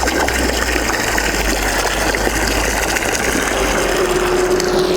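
A VORHUT drainage pump runs steadily, with a continuous motor hum and churning, gushing water as it pumps from a basin, loud and close with no speech.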